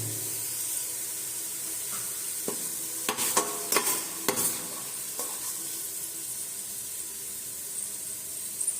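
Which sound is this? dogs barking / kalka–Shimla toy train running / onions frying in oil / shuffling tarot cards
onions frying in oil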